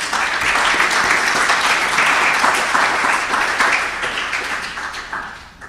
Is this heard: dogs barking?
no